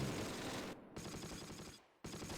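Sustained machine gun fire from an MG in the Close Combat war strategy game, a dense continuous rattle that drops out twice in brief pauses before resuming loudly.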